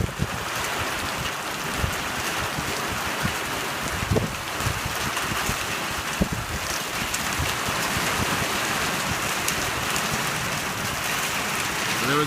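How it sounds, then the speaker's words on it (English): Heavy rain coming down in sheets during a Northeast Texas thunderstorm, a steady dense patter and hiss on surfaces that continues throughout, with scattered louder drops and splashes. "sheets of rain that are coming down a little bit harder."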